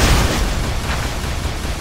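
A barricade blown apart in Unreal Tournament III, a loud, close, rumbling explosion with a brief crackling burst that settles into a sustained roar.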